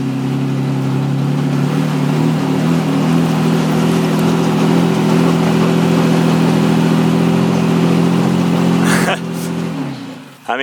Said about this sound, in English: it's just spinning like crazy